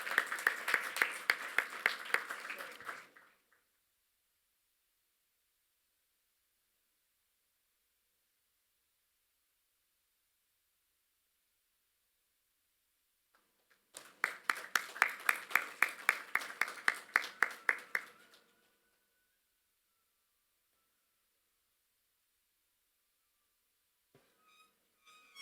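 Audience applause at an interfaith forum on education in Pune, India: a few seconds of steady clapping from a hall, then a long silence and a second burst of similar applause.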